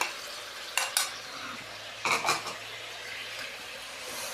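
Chicken frying in a pan with ginger garlic paste, a steady soft sizzle broken by a few clinking stirs of a utensil against the pot, close and alone.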